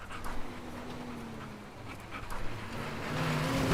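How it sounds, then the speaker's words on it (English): A dog pants steadily with quick, rhythmic breaths in the video game Teardown, faint and mixed with a low engine-like hum and background noise, rising slightly toward the end. "I don't really like this dog."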